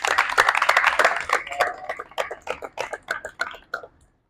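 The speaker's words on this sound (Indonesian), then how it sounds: "tepuk tangan." Students clapping in a classroom, a burst of dense applause that thins into scattered claps and dies away within a few seconds.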